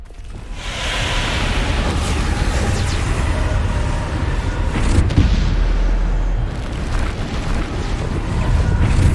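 A magical Bombarda blast in Hogwarts Legacy hits as a loud, deep boom with a roaring rush, followed by sustained rumbling and a second burst of impact midway, with no talking over it.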